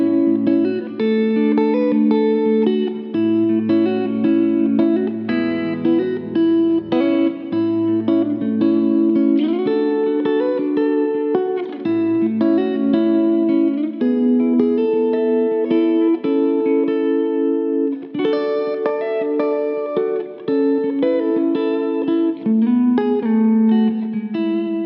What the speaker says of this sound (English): So let's start off with the neck pickup, full tone,